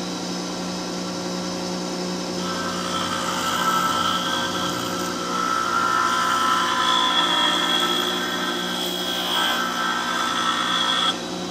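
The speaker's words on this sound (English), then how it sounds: "So instead I'm doing it by hand over here on my tool grinder" A hand-held cutting tool being sharpened on a bench tool grinder for boring cast steel, giving a steady, continuous grinding whine that swells louder around the middle and end, close up with no talking.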